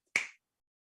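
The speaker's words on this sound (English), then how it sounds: "Snap your fingers." A single crisp finger snap, close and loud, with a quick sharp attack and fast decay, alone in otherwise silent air.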